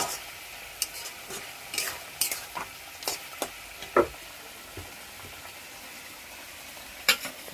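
Spinach stirs and fries in a pan, a soft constant sizzle broken by irregular sharp scrapes and clinks of the utensil against the pan.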